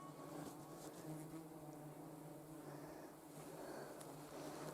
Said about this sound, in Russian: А оводов-то сколько? Вокруг да около. Жужжат, летают.